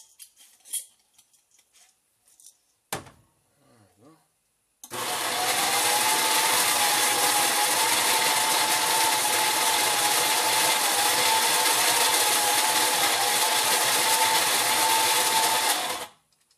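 After a few soft clicks and handling noises, a coffee grinder grinds beans for an espresso shot with a loud, steady motor whirr that runs for about eleven seconds and then stops abruptly.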